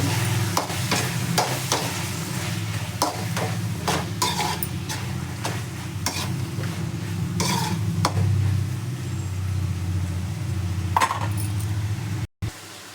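Cut brinjal being stirred in a pan with a metal spatula for hotel-style vangibath, repeated clinks and scrapes in a steady irregular rhythm over a soft sizzle.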